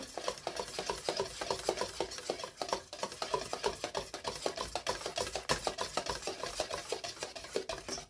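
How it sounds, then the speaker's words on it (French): A whisk beating crêpe batter in a bowl makes a fast, continuous rasping and scraping, steady rhythmic strokes close by for several seconds with no voices. "à l'aide de mon fouet, d'abord, je vais bien mélanger comme ceci"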